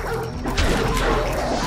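Dog barking in the video game BLOOD, a loud yappy bark burst amid chaotic game noise, with a heavy crash-like thump partway through and dense clutter throughout.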